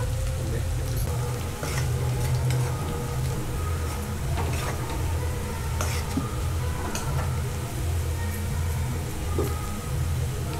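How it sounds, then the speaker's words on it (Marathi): Onions deep-frying in a pan until golden brown for chicken biryani, a steady low bubbling sizzle with scattered crackles and light stirring clicks, continuous and moderately quiet. "आपल्याला कांदा हा सोनेरी ब्राऊन होईपर्यंत तळून घ्यायचा आहे"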